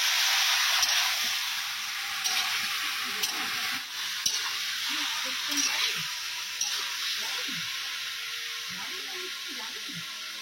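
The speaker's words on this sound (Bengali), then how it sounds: "সব ধুয়ে পরিষ্কার করে রাখা ছিল, এবার মাংসটাকে ভেজে নিচ্ছে মা।" Meat sizzles and fries in a pan as it is stirred, a steady loud hiss with scraping stir strokes, for village-style chicken biryani cooked at home; voices talk faintly beneath.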